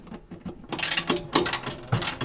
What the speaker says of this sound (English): I'm going to just hand tighten those